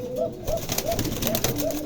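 Domestic pigeons cooing at a pigeon sale, several soft repeated coos in a steady rhythm about every half second, close and moderately loud over a busy background with no talking.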